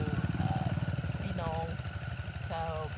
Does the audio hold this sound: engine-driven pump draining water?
yes